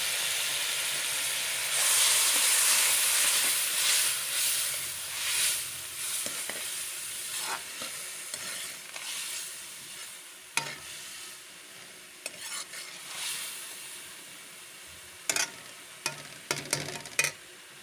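Bitter gourd pieces fry in hot oil as garlic ginger paste goes in for a chicken karela dish, a steady close sizzle and hiss with scraping stirs and spoon taps that grow more frequent toward the end.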